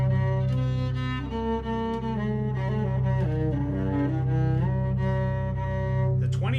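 A dominant seventh chord tuned to the harmonic series, held and shifting through sustained notes: rich, steady tones with changing upper voices, moderately loud, no talk over it.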